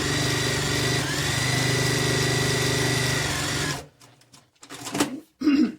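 A sewing machine runs steadily for about four seconds, stitching a fabric piece onto a scrappy improv quilt block, then stops, followed by a few handling noises.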